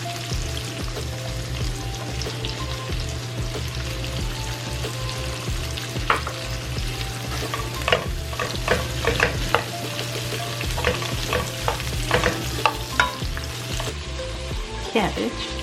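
Onions sizzle and fry with bacon in a single pot, a steady crackling hiss broken by stirring scrapes and clinks of a utensil against the pot, close and continuous.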